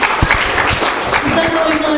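Applause in a Turkish village gathering in Gaziantep, a dense wash of clapping filling the whole moment, with voices talking over it.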